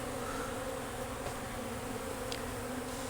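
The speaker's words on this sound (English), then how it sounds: "Looks like a few bees up here have a little bit on them." Honey bees buzzing at a hive while they clean spilled 2:1 sugar syrup, a dense continuous drone close to the microphone with no talk.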